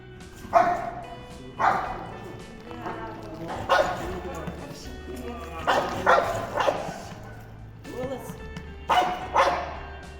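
A service search dog barks during training, with a series of loud, close barks and yips in short bursts spread across the clip, over a steady background hum.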